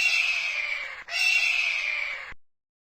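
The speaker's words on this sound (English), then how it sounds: "eagle," An eagle call: a single harsh, high scream lasting about two seconds with a brief break near the middle, loud and close, alone with no other sounds, then silence.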